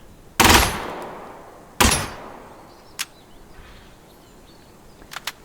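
Two sharp, loud gunshots in Gunsmith Simulator strike a cinder block about a second apart, each ringing off with a decaying tail, followed by fainter impact clicks and taps.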